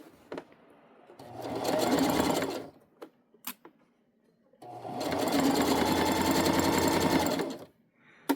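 A sewing machine stitches a tote bag in two sustained runs of fast, even mechanical chatter, each lasting a few seconds, with short pauses and small clicks between them, close and fairly loud.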